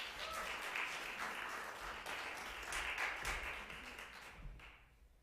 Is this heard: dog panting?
no